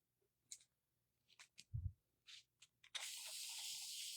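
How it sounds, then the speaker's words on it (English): A handheld spray bottle squirts during a butterfly craft cleanup: several short, sharp hissing bursts in an irregular rhythm, close by, followed by a longer sustained spray with a faint thud in between. "Okay, so spray, spray,"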